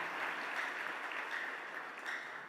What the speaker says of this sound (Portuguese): Você que sente Deus na casa, aplauda Ele